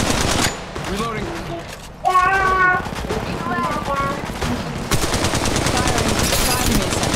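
Rapid automatic gunfire in the mobile shooter Apex Legends Mobile, dense steady bursts running through most of the clip, loud and close, with in-game voice callouts and chimes layered over it.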